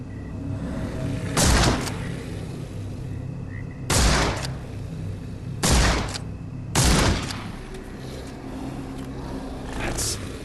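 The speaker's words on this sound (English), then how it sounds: "Holmes, hand me the rifle. I can shoot the ropes holding a few of those poor souls." Rifle in Sherlock Holmes The Awakened, set in a bayou: four loud, separate gunshot cracks spaced a couple of seconds apart, each with a short rumbling tail over a low ambient bed.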